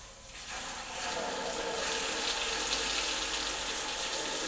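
Water poured into a pot to make feed for pigs, a steady rushing splash that starts softly and swells within the first second, then holds at an even level to the end.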